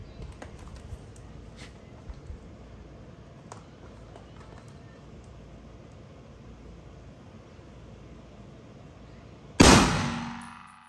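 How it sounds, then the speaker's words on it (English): A single loud, sharp crack from an M1 Garand firing a .30-06 round into a Level III+ armor plate rings out near the end, after a quiet stretch of faint background noise, with a ringing decay following the shot. "Good old M1 Garand, 30-06."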